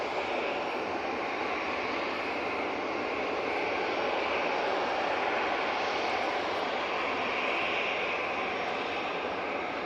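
A TUI airliner departing for Corfu from Manchester Airport, its engines a steady broad roar held at a constant level throughout, distant rather than close, with no talking.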